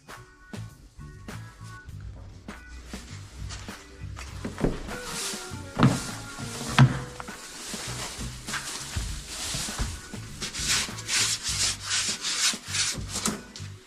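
Yellow-can primer is sanded by hand during old-car bodywork, a steady rasping scrape in repeated back-and-forth strokes with occasional knocks, close and fairly loud, with no talking.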